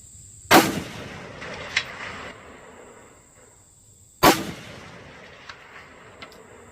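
Two sharp, loud rifle shots from a Romanian MD63, spaced a few seconds apart outdoors, each followed by a rolling echo and faint distant impacts.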